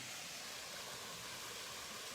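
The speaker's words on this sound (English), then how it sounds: "So we last look at the waterfall." A waterfall beside moss- and lichen-covered rocks on a woodland walk, heard as a soft, steady distant rush of falling water, continuous and fairly faint, with no talking.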